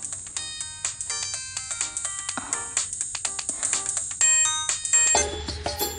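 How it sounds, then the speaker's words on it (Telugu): A mobile phone rings after a call is dialed, a loud, close electronic ringtone pulsing in rapid repeated beeps for several seconds with no talking. "డయల్ చేస్తున్నా"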